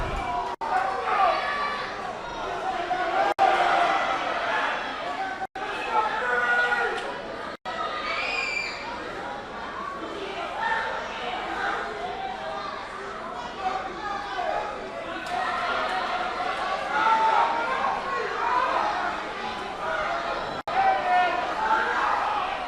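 Inside the 2300 Arena in South Philadelphia, a boxing crowd murmurs and cheers steadily through a bout, a dense babble of voices with a commentator talking over it and occasional sharp thuds.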